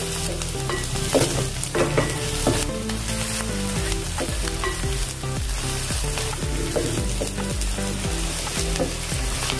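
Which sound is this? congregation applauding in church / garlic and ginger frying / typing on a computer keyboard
garlic and ginger frying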